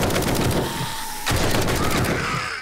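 TAC rifle firing in the video game 7 Days to Die: a dense, loud burst of rapid gunshots that runs continuously through the whole moment, with no speech.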